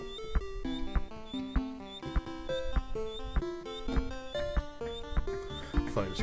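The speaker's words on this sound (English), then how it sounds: "Look, just listen to this music." Bright, bouncy music from the Rareware video game Donkey Kong Country plays, with a steady beat of plucky, percussive notes and a moving melody throughout, fairly quiet.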